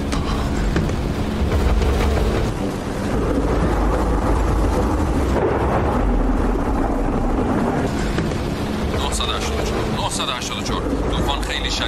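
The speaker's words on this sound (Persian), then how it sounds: "طوفان شدت پیدا کرده، سرعتش زیاده." A severe storm in a dubbed Persian film set in the Sahara, heard as a loud, steady broadband roar of wind and rumble that runs without a break through the whole stretch, with no distinct thunderclap standing out.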